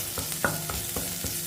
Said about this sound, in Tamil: இப்போ ஒரு வதக்கிடுவோம்.